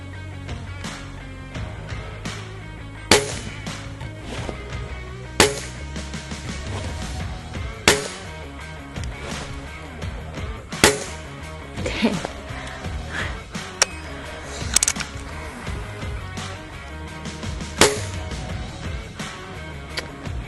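Shots from an Air Arms TX200 HC .177 underlever spring-piston air rifle: about eight sharp cracks a few seconds apart, each a short snap over a quiet indoor background with faint shuffling between shots.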